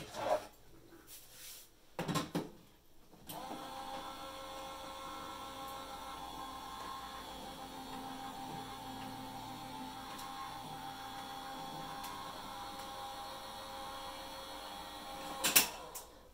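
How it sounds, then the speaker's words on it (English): Hot foil press machine running steadily while foiling cardstock, a constant droning mechanical hum with a faint whine, framed by a few brief handling clatters at the start and a short knock near the end. "I've got my Go Power and Emboss machine ready to go."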